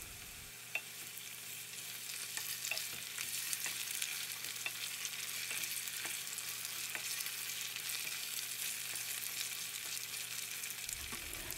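Pre-boiled beef and vegetables being fried and stirred in a pan for chilli beef, a continuous loud sizzle with scattered scraping and clicking of the utensil, steady throughout with no talking.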